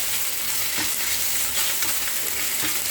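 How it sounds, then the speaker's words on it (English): Pork tenderloin shallow frying in a pan, giving a steady, close sizzle with a few sharp scrapes and clicks from stirring. "shallow fry the tenderloin until it cooks"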